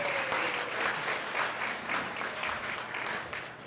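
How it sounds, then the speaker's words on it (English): Wedding reception audience applauding a couple after a speech: dense, steady clapping from many hands, filling the room for several seconds and tapering slightly at the end. "Please give a big round of applause for Justin and Linda, everybody"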